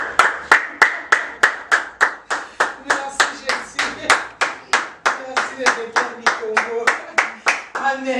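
A church congregation claps in unison, loud, even rhythmic beats about two per second continuing steadily, with voices singing or calling out underneath.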